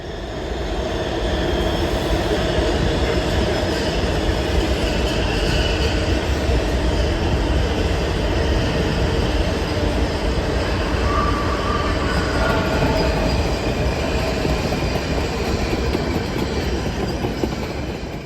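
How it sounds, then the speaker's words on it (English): A Washington DC Metro train rumbles past close by, a loud, continuous roar of wheels and cars on the rails holding steady for the whole stretch, with no voices. "And then there was the Holiday train, which was an adorable shade of light blue."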